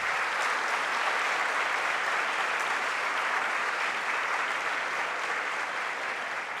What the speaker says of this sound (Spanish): Yo quiero un aplauso para el profesor Juan Bosch.